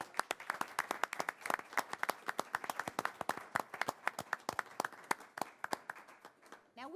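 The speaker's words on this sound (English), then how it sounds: "Now we can give her another round of applause" An audience claps for an award winner at a Good Egg Award ceremony in Park Forest, steady sharp hand claps from many people filling the whole stretch, fairly close and lively, thinning slightly near the end.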